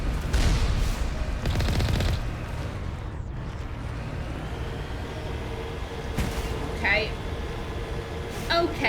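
Turrets firing in Mass Effect Legendary Edition: a dense, loud stretch of rapid gunfire and booms at the start, fading into a rumbling battle din with scattered later shots and faint effects.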